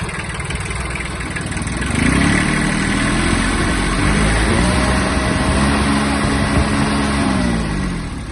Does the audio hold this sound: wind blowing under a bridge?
no